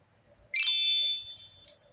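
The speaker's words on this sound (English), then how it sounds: "Sorry about the notification," A single bright electronic notification ding sounds once, close and clear, then rings out and fades over about a second against near silence.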